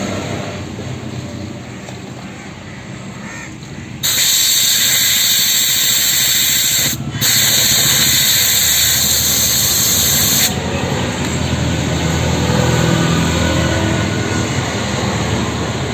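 Air pump filling the rear tyre of a Pulsar 220F motorcycle during a puncture repair, a steady loud hiss that jumps louder midway and holds continuously, with a brief dropout, no talking.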